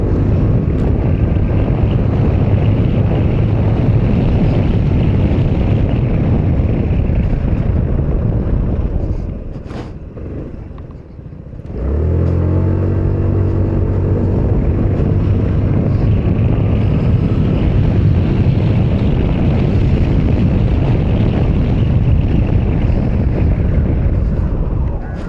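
An Aveta Nova 250 scooter is ridden at full throttle under heavy wind buffeting. A steady roar drops briefly midway, then the engine note climbs back up and holds at speed.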